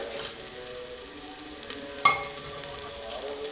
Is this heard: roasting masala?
yes